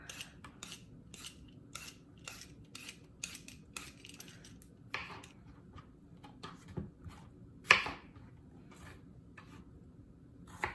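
A cucumber being peeled by hand, producing a series of soft, rhythmic scraping strokes, fairly faint and close, with one sharper louder stroke partway through and no talking.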